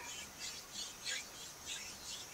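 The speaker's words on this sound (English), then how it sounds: "Hear the sounds of seagulls" Seagulls call repeatedly in faint, squawking cries, one after another, heard from a distance over soft background noise.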